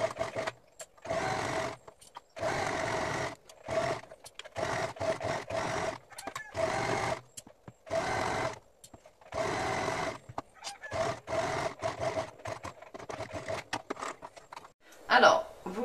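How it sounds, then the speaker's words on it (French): A sewing machine topstitches around the edge of a fabric wipes basket, starting from the turning opening, running in repeated bursts of close, steady whirring separated by short pauses. "je viens passer ma surpiqûre tout autour, en commençant par l'endroit où j'ai fait mon trou"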